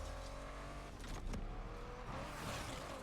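A Bugatti engine in the racing video game NFS Unbound, a steady low engine drone with a brief swell of revving and whooshing, continuous and fairly quiet.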